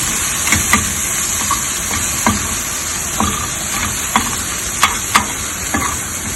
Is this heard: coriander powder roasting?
yes